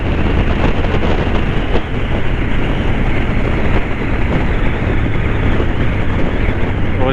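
A Honda CB750 Hornet motorcycle runs in fifth gear on a mountain road, a loud continuous engine drone buried in heavy wind rush across the microphone.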